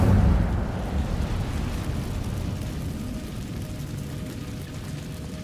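An Incendio fire spell cast in the video game Hogwarts Legacy inside a cave, a loud burst that settles into a low, rumbling roar and slowly fades away.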